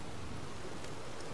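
Steady rain in the outdoors near Lake Michigan, a constant broadband hiss filling the scene at an even, fairly soft level with no voices.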